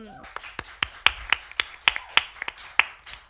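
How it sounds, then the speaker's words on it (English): A few people clap sparsely for an NUS delegate candidate at a student union question time, roughly a dozen distinct, separated claps in an uneven rhythm, close and fairly crisp. "passing on your lovely warmth of applause"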